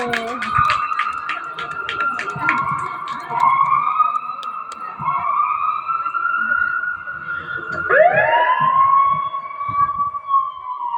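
An ambulance siren, performed for a child's fancy dress competition at school, wails in loud rising and falling sweeps, with a sharp upward swoop near the end and a few short bursts at the start.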